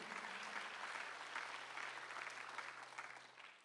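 Sustained applause from a church congregation at a Sunday afternoon worship service in Gwangju, a dense steady wash of clapping that fades slightly toward the end, with a low electrical hum underneath.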